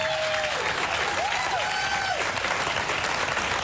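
A studio audience at a live talk show applauds, a dense steady clapping wash with a few whoops and whistles rising over it.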